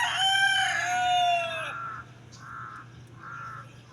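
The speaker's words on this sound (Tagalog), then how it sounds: "Ingay sa mga uwak, oh." A rooster crows loudly and close by, then crows caw in a series of short, evenly spaced calls over a low background hum.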